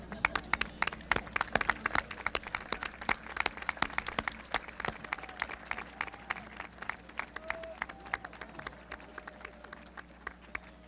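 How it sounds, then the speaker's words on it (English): A crowd at a high school commencement gives the standing graduates a sustained round of applause, dense clapping with scattered louder claps and faint cheering filling the hall throughout. "give them a round of applause"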